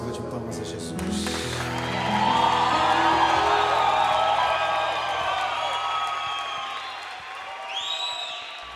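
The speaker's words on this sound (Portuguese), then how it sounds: "Dê uma salva de palmas a Jesus." A church congregation claps and cheers in a broad swell that builds and then fades, with whoops and music under it and a voice partly over the crowd.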